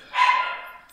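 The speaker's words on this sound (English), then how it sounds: "That's my dog, Sadie, in the background." A dog gives one short, sharp bark, fairly clear against an otherwise quiet background.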